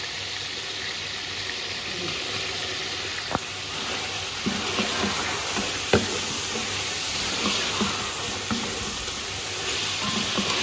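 Chicken frying with chilli powder and garam masala in a pan, a steady close sizzle and hiss with a few sharp stirring clicks and scrapes, no talk.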